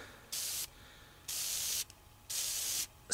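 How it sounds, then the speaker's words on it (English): Filter oil is sprayed onto a motorcycle air filter in four short, crisp aerosol bursts, each about half a second long and separated by brief quiet gaps. "you're going to start spraying this down"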